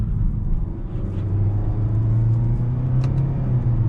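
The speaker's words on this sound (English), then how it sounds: "when you do go into the manual mode and shift with these paddle shifters" Cabin drone of a 2023 Nissan Altima SR 2.5 FWD with its CVT run in manual mode via paddle shifters: a steady low engine hum that rises slightly in pitch, with faint brief clicks near the end.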